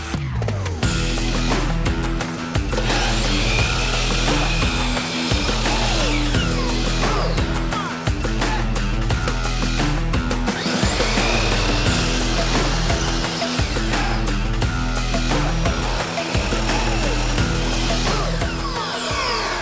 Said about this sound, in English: When you're cutting this, you want to remember to cut it on the face side so you're not sliding your piece around